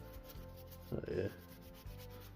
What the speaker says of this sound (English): Give it a quick scrub of that.